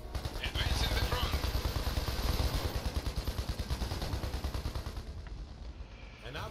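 Gunfire in the Iron Harvest strategy game keeps up a steady, rapid machine-gun rattle for several seconds, loud and dense, tapering a little near the end.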